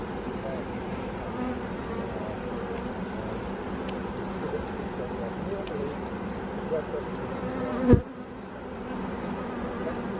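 Honeybees buzz in a dense, constant drone during a hive inspection in July, close and steady throughout, with a brief bump of handling noise near the end.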